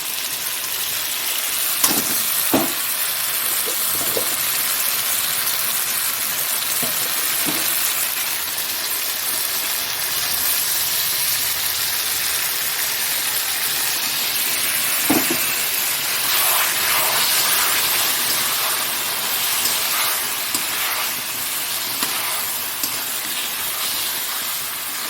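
Spice paste sizzles steadily in a hot pan while fried rice is being cooked, making a continuous close hiss broken by a few sharp crackles and spatters.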